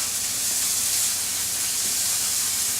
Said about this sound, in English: We're going to let that cook for a minute or two